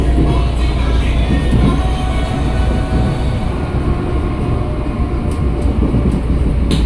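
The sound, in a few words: Tokyo Metro 6020 KRL commuter train running on Cikarang line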